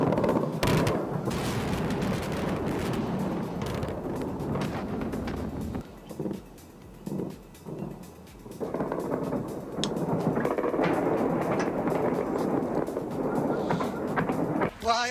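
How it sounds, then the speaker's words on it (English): Explosions from the bombing of Baghdad rumble and crackle as dense, roaring blasts with wind-like noise. Two brief quieter gaps break the roar, and people talk over it. "They bombed the shit out of Baghdad, and they called it shock and awe"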